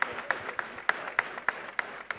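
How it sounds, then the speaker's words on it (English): Sparse claps from a small debate audience, about eight sharp separate hits spaced roughly a third of a second apart, fairly faint over a quiet room. "A round of applause, please."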